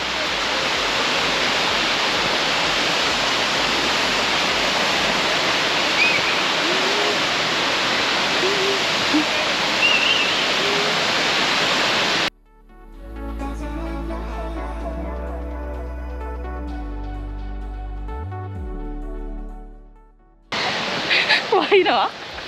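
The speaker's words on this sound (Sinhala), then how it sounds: "Falls, හොප්කින් ඇල්ල." Hopkins Falls near Warrnambool, Australia, fills the air with a dense, steady roar of falling water for about twelve seconds. Music briefly replaces it before the rushing water returns near the end.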